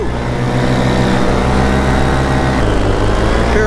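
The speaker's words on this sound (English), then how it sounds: "I don't think it's generating the same high-end RPM." A paramotor engine runs with a new replacement propeller, a loud close steady drone with strong low harmonics that shift pitch slightly partway through.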